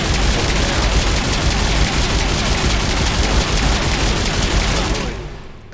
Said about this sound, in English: The Addis anti-synthetic rifle. This is a Quarian weapon. If you just shoot one, electrical burst.